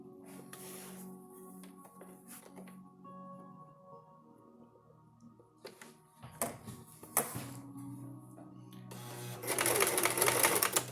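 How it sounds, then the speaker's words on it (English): A sewing machine stitches a fabric face mask, running in several short bursts with pauses between, growing louder and more continuous toward the end. "We're gonna stitch from here to here."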